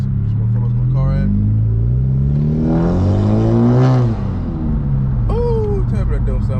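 A car engine revs and rumbles up at the start of a point-of-view drive, a loud, rising low growl that swells mid-clip and settles back, with another voice or sound briefly entering near the end.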